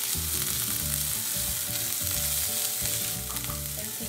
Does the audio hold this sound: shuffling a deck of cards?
no